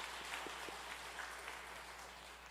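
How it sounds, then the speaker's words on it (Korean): Church audience clapping at a scholarship presentation during a live worship service, a soft, distant, even patter of applause sustained across the moment, faint and diffuse with no voices on top. "우리 박수로 축복하도록 하겠습니다"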